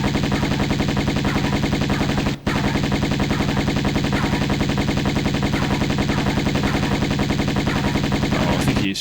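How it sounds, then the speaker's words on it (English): Enemy gunfire in Tomb Raider I Remastered, in the Natla's Mines level, roars as loud, continuous rapid automatic fire, broken only by one brief gap. "I think he is shooting us"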